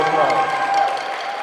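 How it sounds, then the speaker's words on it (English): A crowd applauds percussion camp performers at a performance day, a short burst of clapping with murmured crowd noise blended in. "Let's give them another round of applause."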